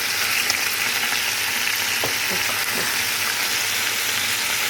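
Button mushrooms sizzling in a frying pan, salted, a steady close crackling fry with a few sharper pops and faint stirring, no voices.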